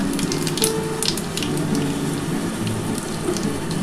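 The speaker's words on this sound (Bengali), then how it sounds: "এবার আমি কিন্তু একটু কালো জিরে ফোড়ন দিয়ে দিলাম" Black cumin seeds tempered in hot oil for a Bengali bean-leaf dish give off a steady, close sizzle with fine crackling spatter, continuous and without pause.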